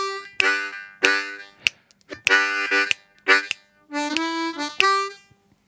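A harmonica plays the first half of a looped chord rhythm, with short and longer chords in a bouncy pattern separated by brief gaps, close and clear with no talking.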